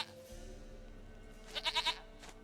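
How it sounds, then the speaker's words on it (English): A goat in The Witcher 3 video game bleats in a short, quavering triple-pulsed call over a faint background hum. "We found the goat!"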